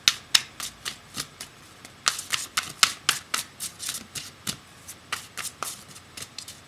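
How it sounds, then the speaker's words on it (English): Oracle cards being shuffled by hand during a reading, a close series of crisp riffling bursts and soft slaps repeating steadily for several seconds with no talk. "it takes a little longer doing all the shuffling on camera"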